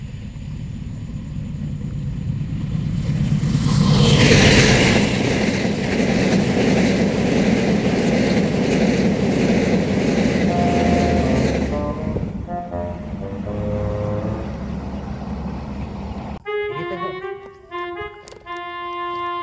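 A train rumbles past loudly in a rural village setting, a broad roaring rush swelling around the middle then easing, with a horn-like tonal blare near the end as it moves away.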